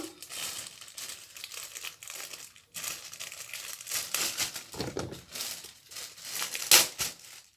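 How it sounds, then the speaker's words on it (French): Plastic bag being handled during a natural hair mask routine, irregular bursts of close crinkling and rustling with brief pauses, one sharp crackle near the end. "Pour le repos, j'ai besoin de sac plastique."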